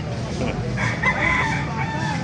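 At a market, a rooster crows once loudly over a background of clucking chickens and murmuring voices, close and busy.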